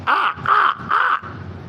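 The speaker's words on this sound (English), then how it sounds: "there's one of my crow buddies right here on that light pole" Three loud, harsh caws from a nearby crow, evenly spaced, followed by quiet outdoor background.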